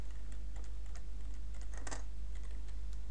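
Computer keyboard typing while entering a name in an Excel spreadsheet: a short, quiet run of light, irregular key clicks over a steady low hum, with no talking.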